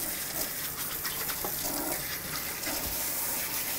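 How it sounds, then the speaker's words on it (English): Green beans rinsed under a running kitchen tap: a steady, close hiss and splash of water into the sink with no break, no voices. "We'll rinse off some green beans."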